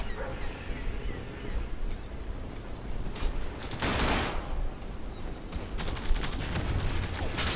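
Scattered gunfire in the online shooter Zula: a few sharp shots and a short loud burst stand over a busy, steady battle background, with clustered rapid shots later on.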